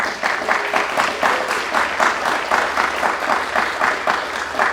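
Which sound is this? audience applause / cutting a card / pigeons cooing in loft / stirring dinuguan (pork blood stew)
audience applause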